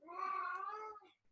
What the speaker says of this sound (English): that's my cat wanting to go out again